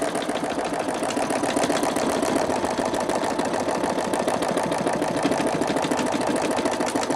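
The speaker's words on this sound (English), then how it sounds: "I've got this set at full speed. This machine does 800 stitches a minute." Brother ULT 2003D sewing machine stitching metallic thread at full speed, about 800 stitches a minute, producing a continuous close, rapid mechanical chatter with an even whirring hum and no pauses.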